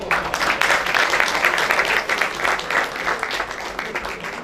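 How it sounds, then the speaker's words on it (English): Students and attendees in a symposium lecture hall applaud together, a close, full burst of clapping that stays loud and even for a few seconds, then loosens slightly as it fades. "And a round of applause for all of you for attending this session."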